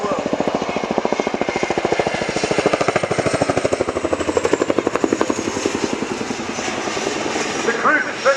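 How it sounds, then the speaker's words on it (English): A Boeing Chinook HC4 tandem-rotor helicopter of RAF No 18 Squadron performs a wingover at the RIAT Fairford airshow, with a loud, rapid, steady rotor thudding and engine roar and a commentator speaking over it. "The Chinook is now turned away to perform a 60-degree offset wingover"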